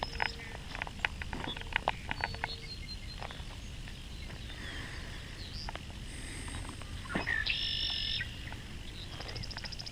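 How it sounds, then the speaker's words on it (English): Outdoor ambience at a rural Indiana–Ohio highpoint with several birds chirping and calling at a distance, including a clearer whistled phrase near the end, over a low steady rumble of a distant highway. "but mostly just birds singing"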